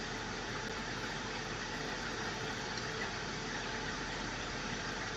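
A spaceship engine in the video game Star Citizen runs as a steady, dense mechanical hum that holds at an even level throughout, with no talk over it.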